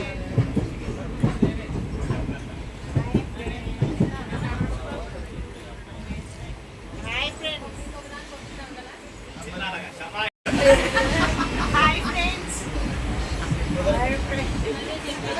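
Rumbling train carriage noise with rhythmic clicks of wheels on rails, mixed with nearby voices and passenger chatter inside the coach.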